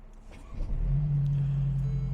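A 2017 Mercedes SLC300 roadster's turbocharged 2-liter four-cylinder engine cranks briefly and catches, then settles into a steady, smooth idle close by.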